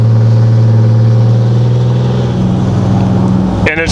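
Diesel engine of a 2021 Ram 2500 Cummins pickup tuned to about 500 horsepower, a loud low droning roar with rising harmonics as it launches with tires spinning through first gear, heard close from inside the cab.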